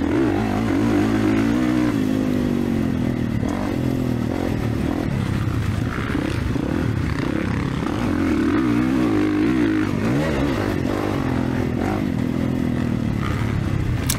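A KTM motocross motorcycle roars steadily around a dirt track in perfect conditions, the engine loud and close throughout with continuous revving and rising and falling throttle, no voices.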